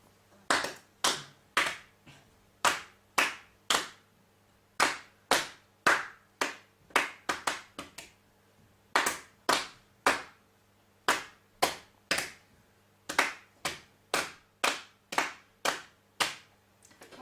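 Hands clap a rhythm during a beginner music lesson, with about three dozen crisp, close claps in grouped patterns of quick and spaced beats and short pauses between phrases, in a quiet room with no talk.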